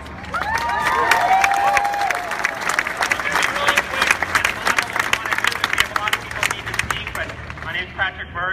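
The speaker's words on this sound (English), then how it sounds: "let's give a round of applause for my homeboy Patrick" Crowd at an outdoor rally against white supremacy in Northampton applauding and cheering loudly, dense clapping with a few shouts and whistles, continuing steadily throughout.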